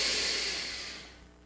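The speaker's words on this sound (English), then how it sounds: "We take a deep breath" A single deep breath, a loud close airy rush of air that fades away over about a second, with no talking.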